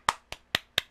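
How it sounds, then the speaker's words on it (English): Four sharp hand claps, evenly spaced and close by, with short gaps of quiet between them. "Let me give this some applause."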